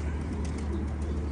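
Pigeons coo softly and repeatedly over a steady low background hum, with no clear wingbeats standing out.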